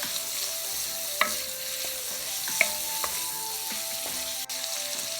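Shrimp fry quickly in a pan for pancit guisado, a steady close sizzle broken by a few sharp scrapes and taps of a utensil against the pan, with no talking.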